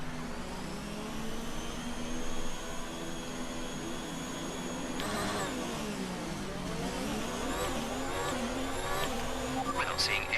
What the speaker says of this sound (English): So hold the clutch,